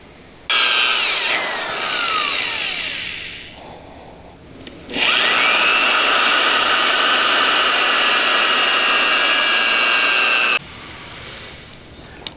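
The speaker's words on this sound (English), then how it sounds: "using a 1/4 inch drill, I'm going to drill the holes that will connect the center section to the side belting" A 1/4 inch power drill bores holes through rubber snowplow deflector belting on a BOSS snow deflector, whining loudly in two sustained runs with a brief dip between them and a short pause before the second pass.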